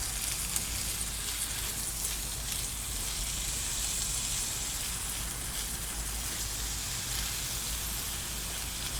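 Onions frying in a cast iron pan over a cube stove outdoors, a steady close crackling sizzle that holds evenly throughout with no talk.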